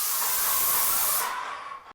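A loud, steady high-pitched hiss of a paint spray gun running continuously at 220 bar, then cutting off and tailing away near the end.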